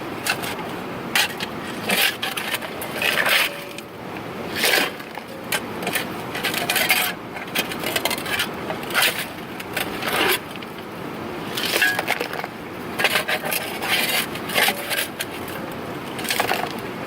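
Gravel and black sand scraping and rattling in a gold pan along the North Yuba River, with continuous gritty swishing and frequent sharp clinks of stones against the pan, close and steady throughout.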